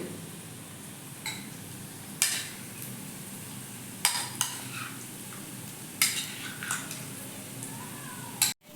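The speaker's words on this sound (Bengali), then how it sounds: "এই সময় দিয়ে দিলাম চিকেনের মধ্যে লবণ এবার ভালো করে মাখিয়ে নেব" Chicken being worked with salt by hand for a chicken pulao, giving sporadic wet squelches and soft knocks, with a few sharper clacks against the bowl, near and fairly quiet over a steady room hiss.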